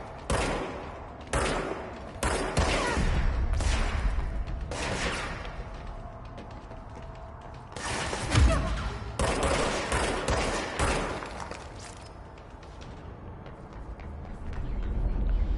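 Gunfire from an enemy in the video game Control on PS5, bursts of automatic shots and heavy impacts in uneven clusters, loud and close, with little else between volleys.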